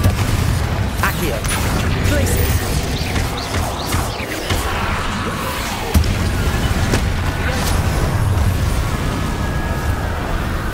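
Spell blasts from Hogwarts Legacy, including the Bombarda explosion, rumble through continuous combat, a dense, loud wash of booms and crackling impacts with one sharper burst near six seconds.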